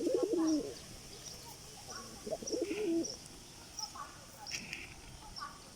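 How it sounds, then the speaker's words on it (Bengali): A pet pigeon coos in short throaty bursts, close by and fairly quiet, repeating several times against a soft background hiss, with faint chirps from other birds in between. "এই কবুতরটা ডাকছে খালি খাওয়া বাদ দিয়ে"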